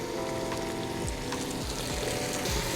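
Squash and eggplant sizzle and fry in a hot pot with other vegetables, a steady close crackle broken by a few soft scraping stirs, no voices.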